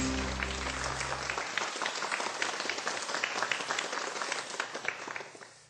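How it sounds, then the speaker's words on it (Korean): Applause from a studio audience greeting a company CEO's short lecture on a Korean business program, a dense, even wash of many hands that carries on for several seconds with a low hum cut off early. "큰 박수로 청해 듣겠습니다."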